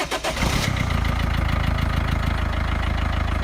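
A Peugeot 207 engine runs right after a new alternator is fitted. It settles into a steady, loud, close idle with a rough, even throb throughout and no talking.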